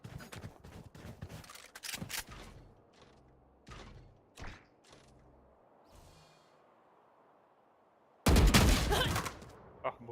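Gunfire from a Valorant match, the Gen.G versus Sentinels grand final at VCT Masters Madrid: a few sharp shots and thuds early, then scattered quieter impacts, and a loud burst of fire near the end.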